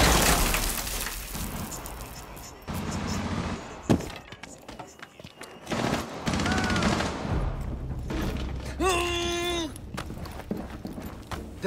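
A breach charge blows in Rainbow Six Siege, a sharp loud blast standing out amid scattered gunfire, shattering debris and game effects, with brief voices around the action.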